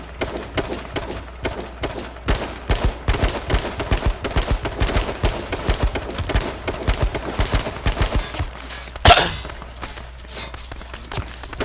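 Video game gunfire crackles in rapid, dense bursts through most of the stretch, ending in one sharper, louder shot, while players chatter faintly underneath.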